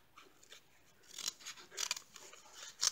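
Scissors snip through craft material for a sparkly pearl embellishment, a few close, crisp cuts that grow louder and more frequent toward the end, with no talking.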